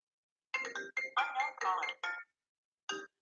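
A phone ringtone plays a short melodic phrase in several close, clear bursts, falls silent for a moment, then gives one more brief burst.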